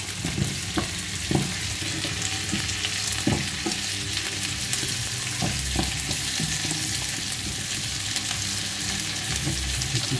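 Salsify frying in melted butter in a pan, a steady close sizzle with occasional stirring knocks and scrapes, heard alone without talk.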